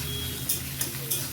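Garlic and grated ginger sauté in a pan, giving a steady close sizzle broken by three brief scraping stirs, with no voices.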